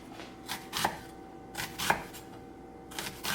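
A knife slices through an onion on a cutting board in three distinct, evenly spaced chops, close and fairly quiet, with no talking.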